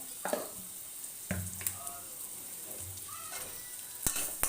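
Masala paste made with ground turmeric and spice powder sizzles steadily in a hot pan, with a few sharp stirring scrapes and clinks over a constant hiss.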